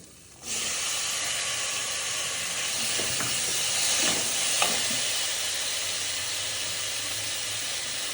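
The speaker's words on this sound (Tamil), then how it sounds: "தக்காளி நல்லா வதங்கிடுச்சு" Chopped tomatoes with ginger-garlic paste and biryani masala sauté in a pan, giving a steady, close sizzle and hiss that starts abruptly and holds even throughout, with a few faint stirring scrapes.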